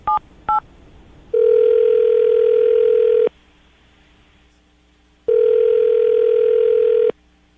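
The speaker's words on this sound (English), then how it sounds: "going to call her right now, get her on the phone" Two short dialing tones, then two long ringback tones separated by a pause, a steady phone ring heard through the line with no talking.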